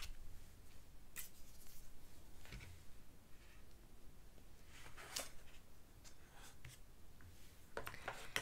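Scissors snip through packaging during a quiet ASMR unboxing of wishlist items, a few soft, crisp cuts and rustles spaced out over a low, hushed background, with no talking.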